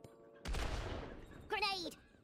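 Grenade explosion in the video game Worms W.M.D: one sudden loud boom that rumbles and dies away, followed by a short cartoonish character voice.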